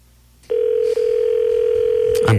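Telephone dial tone while calling voicemail: after a quiet start, a loud, continuous steady tone begins with a brief dip, then ends in a short clatter.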